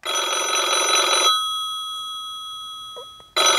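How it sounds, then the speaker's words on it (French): An Avantek D-3B wireless doorbell chime plays an old-style telephone bell ring, loud and close, a rapid metallic trill lasting over a second, then a ringing decay and near silence before the trill starts again. "ils n'ont jamais entendu un téléphone sonner comme ça"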